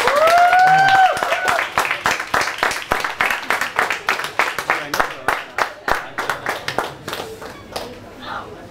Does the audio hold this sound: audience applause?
yes